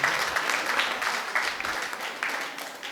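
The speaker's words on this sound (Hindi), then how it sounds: "जोरदार ताली" An audience at a Buddhist vihara gathering in Raipur claps for a correct quiz answer, a soft, fairly distant patter of many hands that swells and eases in uneven waves.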